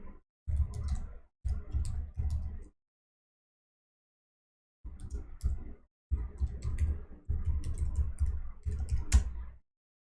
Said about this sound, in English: So I'm just typing my mail ID.